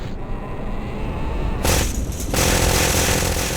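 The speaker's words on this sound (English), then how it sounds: "there was way too much gunfire" Dense, loud bursts of rapid gunfire and booms in Counter-Strike: Source, constant and overlapping like a heavy firefight.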